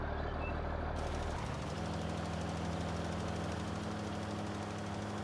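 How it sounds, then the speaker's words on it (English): A long freight train in the Farming Simulator 19 video game rumbles past in a continuous, loud, even drone, its low mechanical hum settling into steady tones after a brief shift at the start. "I think that train is 100 plus cars in length."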